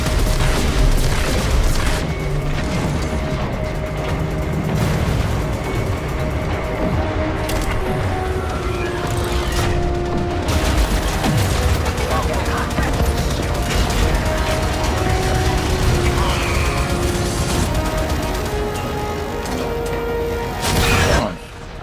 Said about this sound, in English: Heavy ordnance. Fire torpedoes.